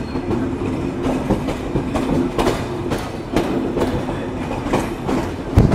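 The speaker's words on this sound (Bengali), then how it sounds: "আমাদের চিত্রা এক্সপ্রেস যমুনা রেলওয়ে সেতু ধরে এখন যাত্রা করছে" The Chitra Express, a passenger train in Bangladesh, crosses the Jamuna railway bridge with a continuous loud rumble and rhythmic clickety-clack of wheels over rail joints, heard close from inside the carriage.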